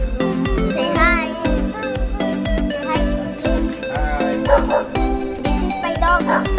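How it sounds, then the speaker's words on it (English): A pet dog at home yips, barks and whimpers in short, repeated bursts against a busy, steady background sound that runs throughout. "This is my dog."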